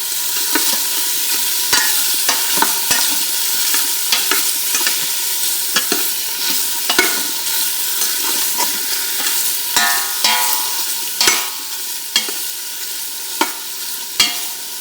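Bite-sized pieces of meat brown in a pot for a one-pot spaghetti dish, a steady close sizzle broken by frequent sharp scrapes and clicks of stirring throughout.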